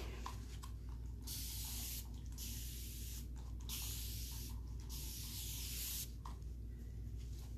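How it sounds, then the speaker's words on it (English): Spray bottle misting glaze over painted furniture: a series of soft hissing sprays of varying length, some long and some short, close and fairly quiet, with no talking. "So what I'm gonna do is I'm gonna mist it a little bit, and we're gonna try that spot again."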